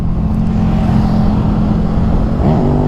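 A Porsche overtaking a Kawasaki Vulcan S motorcycle on the road, heard as a loud steady engine and wind roar close by, with a rising whine near the end as the car draws past.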